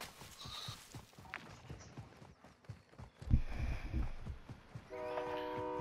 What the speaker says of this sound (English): Train is there.